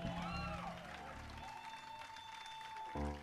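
Applause from a concert audience at a tribute fills the space, steady clapping with some crowd noise and a few tonal sounds mixed in, swelling slightly at the end.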